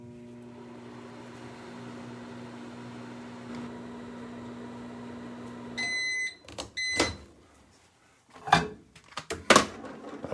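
Microwave oven cooking eggs at 50% power: a steady low hum runs for about six seconds, then stops, followed by a few sharp beeps and clunks like the door being opened.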